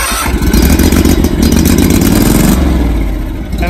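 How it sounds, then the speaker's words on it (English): Core aerator engine roaring at full throttle during a fall lawn renovation, a loud, steady mechanical drone with clattering, holding strong then easing slightly in pitch and level toward the end. "So that was how you turn the machine on."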